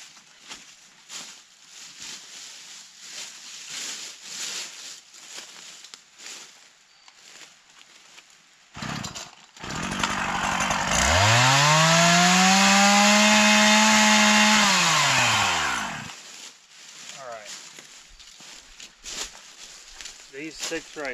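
A chainsaw revs up loud and close, holding a steady roaring pitch for several seconds before cutting off, with talk and rustling before and after, outdoors on a homestead.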